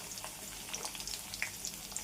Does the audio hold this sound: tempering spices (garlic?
yes